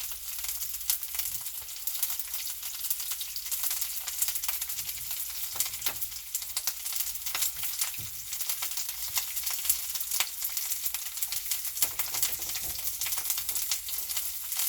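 Sausages sizzle and fry in a pan lightly coated with olive oil, a steady dense crackle with scattered louder pops throughout, close and continuous with no talking.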